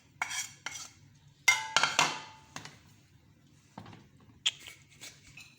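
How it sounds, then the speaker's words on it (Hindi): Spice paste, ginger and garlic being mixed into yogurt in a bowl for a raan marinade, heard as a few soft scraping and clinking bursts of a spoon against the bowl, fairly close, with pauses between. "तो हम इसको कर लेंगे अच्छी तरह मिक्स।"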